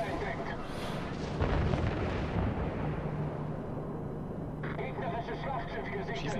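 Naval gunfire in World of Warships strikes and lands around the player's own ship, a continuous roar of booming shell impacts and rumbling blasts under steady talk.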